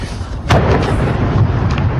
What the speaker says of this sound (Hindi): ये आपको आवाजें जो सुनाई दे रही है, धमाके की आवाज सुनाई दे रही है